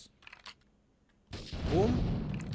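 Gunfire in the video game Grand Theft Auto III on PS5: after quiet moments of faint game sound, a loud burst of shots swells and keeps roaring, with a voice heard in the clip.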